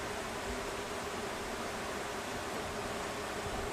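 Honeybees droning steadily at an open hive during an end-of-summer inspection, a dense continuous buzz that holds at an even level throughout, with no voices.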